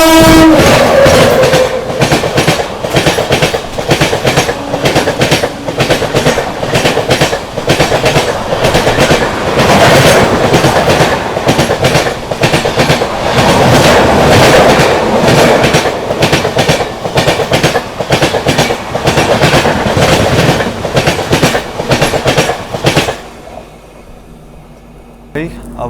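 Magadh Express, the Islampur–New Delhi train 20801, overtaking at speed alongside, a loud continuous rumble with rapid clickety-clack of wheels over rail joints and a horn early on, fading near the end.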